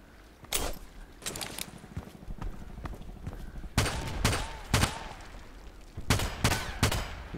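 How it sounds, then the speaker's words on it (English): Gunfire in the shooter game Contract Wars, with shots punched through a metal container: bursts of sharp, loud cracks in uneven clusters separated by brief pauses, no talk. "Nice, he's shooting through the container."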